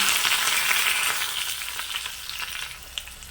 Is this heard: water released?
no